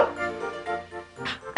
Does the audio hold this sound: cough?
no